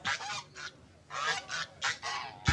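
Several geese honk loudly and close by in harsh, repeated bursts with short gaps between them, while an argument plays out nearby.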